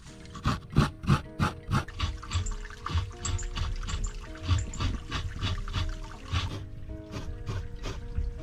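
Fresh coconut scraped by hand on a grater, close up, with quick rhythmic rasping strokes at first that settle into a steadier, continuous scraping.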